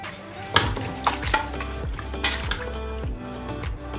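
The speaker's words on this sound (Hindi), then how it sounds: "सारे मसाले डाल के इसको अच्छा से मिक्स करेंगे।" A pot of mutton tripe, spices and water being mixed, with repeated metal spoon scrapes and clinks against the pot in an uneven rhythm over a low simmering sizzle, close up and without talk.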